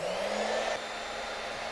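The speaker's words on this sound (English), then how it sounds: "If they don't all quite fit in, no worries about it because it'll still get heat from the dryer." A hair dryer blowing hot air over clip rollers in a salon doll's hair, a steady, loud, close whooshing whir that shifts slightly in tone partway through, with no talk.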